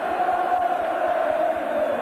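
A football crowd at a 1984 Newcastle United versus Brighton match chants a player's name, Keegan, in a steady, continuous roar with a held sung tone running through the full stretch, loud and massed with no talk over it.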